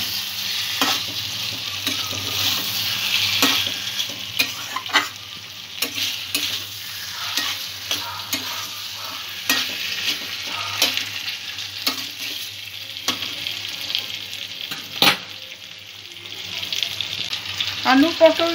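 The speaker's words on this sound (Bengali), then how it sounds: "আলু, পটল, চাল সমস্ত মশলার সঙ্গে আমি 2-3 মিনিট কষিয়ে নিয়েছি" Potato, pointed gourd and rice are sautéed with spices in a pan, giving a steady close sizzle broken by frequent spoon-stirring scrapes and knocks, with one sharper clatter near the end.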